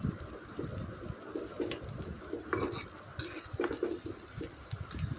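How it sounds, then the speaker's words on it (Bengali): Chopped garlic and onion fry in mustard oil in a pan, a steady close sizzle broken by repeated scraping strokes of a stirring spoon and occasional clinks of metal, with no voices. "এখন আমি রসুন কুচি পেঁয়াজ কুচি দিয়ে সরষের তেল দিয়ে সুন্দর করে একটা তেলে ভাগার দেবো"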